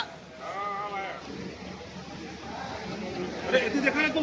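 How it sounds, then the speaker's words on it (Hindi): A goat bleats in a short wavering call early on, with a second bleat toward the end, amid voices and general crowd chatter at an outdoor gathering in Chhattisgarh. "बकरा"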